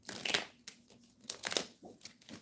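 Tarot cards being shuffled in quick bursts, with crisp papery riffles and flutters close to the mic, then short pauses between the bursts.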